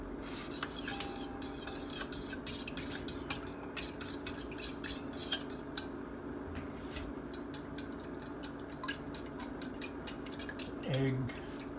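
An egg stirred into a milk mixture in a bowl, heard as quick, light clinking and scraping of a utensil against the dish in a fast steady rhythm, close but fairly quiet, with a brief thump near the end.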